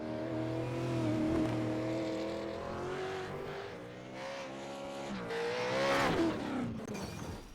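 Supercars race cars in the iRacing simulation at the Long Beach street circuit, engines droning and revving loudly throughout with rising and falling pitch, tyre noise and several cars passing close.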